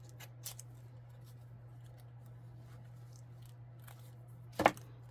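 A single quick snip of scissors trims a paper tag near the end, a short crisp cut over a quiet room with a faint steady hum.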